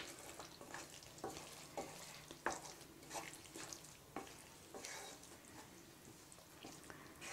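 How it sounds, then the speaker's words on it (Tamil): Spoon scraping and stirring fried paneer into a gravy in a pan, with soft, steady sizzling and repeated close scrapes, no talking. "பன்னீர் சேர்த்து ஒரு கிளறு கிளறி விடுங்க."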